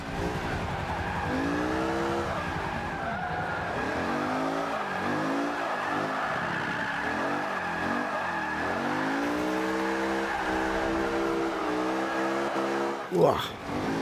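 A supercar drifts in Forza 5, its engine revving up and down in sweeping rising and falling tones over constant tire squeal, with a sharp screech near the end; a voice talks over it.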